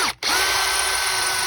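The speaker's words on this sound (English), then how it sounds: "So let's quickly punch a hole in the back of that, just for convenience." Power drill punching a small hole through the back of a workpiece in a home workshop, a steady close whine running nearly throughout after a brief catch at the start.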